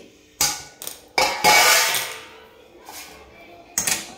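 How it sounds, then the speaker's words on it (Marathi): Peanuts being stirred quickly into hot sugar syrup in a pan for peanut chikki, several sharp scraping and clattering strokes of the spoon against the pan, close and loud, with short pauses between. "आता मी हे पाकामध्ये टाकून देते एवढे शेंगदाणे आणि मस्तपैकी पटपट हलवून घ्यायचंय"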